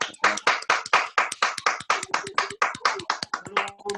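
Audience clapping at an online talk with a psychiatrist and professor, a brisk run of individual close hand claps, uneven and overlapping, with a few faint voices coming in near the end.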